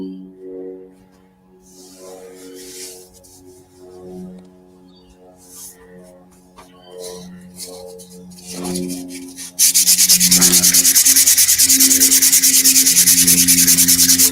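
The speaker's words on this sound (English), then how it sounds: "Got an awfully coarse sandpaper by the sound of it." Coarse 80-grit sandpaper rubbing on wood to take down a high spot, starting as light intermittent scratches and then turning into loud, steady, continuous rasping strokes up close, with a little background talk.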